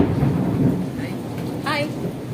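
Thunder rumbles low during heavy rain, a broad rolling boom beneath a constant hiss of falling water, with a brief faint chirp-like sound partway through.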